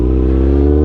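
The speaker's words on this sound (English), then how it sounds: "This M4 exhaust sounds so good." A Kawasaki 636 stunt motorcycle fitted with an M4 exhaust, a loud, deep, continuous engine roar close up, held steady for under a second.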